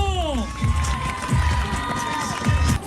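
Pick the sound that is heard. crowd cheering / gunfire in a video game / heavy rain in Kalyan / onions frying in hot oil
crowd cheering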